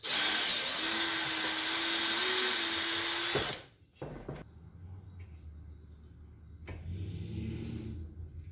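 Power tool running a reamer through a pin hole in a VW engine case, a loud steady high whine for about three seconds that stops abruptly, followed by quieter knocks and low rumbling handling noises.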